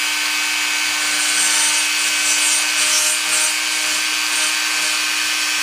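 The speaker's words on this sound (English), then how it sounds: "what I'm doing here is cleaning up all the area. This little Dremel is like 1/16 thick." A small Dremel rotary tool grinds steadily against a carved wooden banjo, a continuous high whine with scratchy, rubbing texture, close and loud for the whole stretch.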